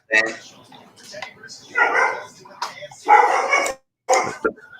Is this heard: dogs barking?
yes